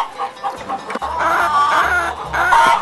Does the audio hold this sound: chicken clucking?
yes